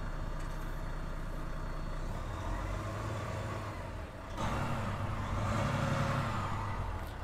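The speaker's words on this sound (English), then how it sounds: "Just sounds like a nice restricted truck that does not have room to breathe." A 2020 Volvo VNL 860 truck engine idles with a steady, restricted-sounding rumble, close and continuous, swelling slightly louder midway before settling into the same even drone.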